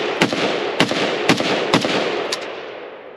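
Romanian Nova CGR AK rifle fired on an outdoor range, five sharp loud gunshots in an irregular rhythm with ringing echo tails and no talking.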